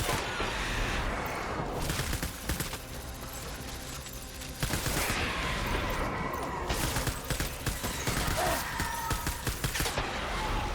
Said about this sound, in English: as I shoot my blood, which is basically shooting my health away